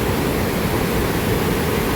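Continuous dense roar of water overflowing Shetrunji Dam near Palitana, a loud, unbroken rushing wash with no pauses.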